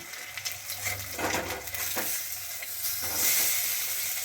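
Drumstick flower and red lentil fritters fry in oil after being turned, giving a soft, steady sizzle with faint scraping and clinks running through it.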